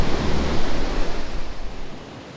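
Ocean waves wash steadily onto a beach where volcanic rocks rise from the sand among washed-up driftwood, a continuous loud surf roar that eases slightly toward the end, with no voices.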